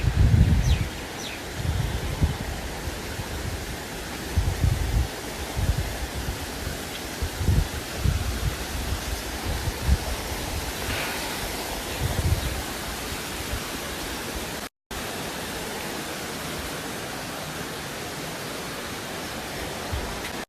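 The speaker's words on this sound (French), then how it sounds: "c'est une cascade qui se trouve à Saint-Gilles-les-Hauts" Waterfall at Saint-Gilles-les-Hauts on Réunion, beside a small river along a cliff path: a steady broadband rush of falling water, fairly loud and continuous, with some wind and rustling near the microphone and a brief dropout midway.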